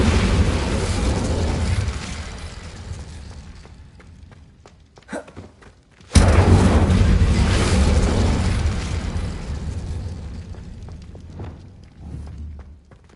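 The Incendio fire spell cast in Hogwarts Legacy bursts out as a sudden roaring whoosh after a quieter stretch, then a loud, sustained fiery rumble that slowly fades, with smaller pops and crackles scattered around it.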